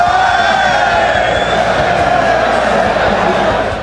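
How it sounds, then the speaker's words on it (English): A full arena audience at a League of Legends esports match (LCS 2014 EU Summer) cheering and shouting, a continuous loud crowd roar that holds steady throughout. "It's so nice to be in a full arena and see all those people that are cheering for the same thing."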